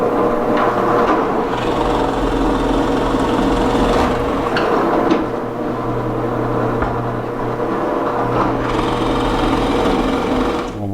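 Continuous whirring drill motor boring a large-diameter hole, running close and loud for the whole stretch with slight dips in pitch as it bites, no voices.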